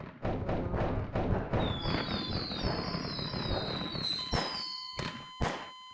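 Fireworks go off in Garry's Mod: a rapid run of thumping bursts gives way to whistling rising trails and sharp crackling cracks near the end, loud and close with no speech.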